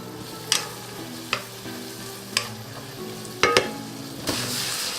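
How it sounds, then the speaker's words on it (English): A spoon stirs sautéing vegetables, including pepper, in a hot pan for chicken tetrazzini, giving several sharp scraping clacks spaced about a second apart over a constant soft sizzle. "Let's give it a little stir."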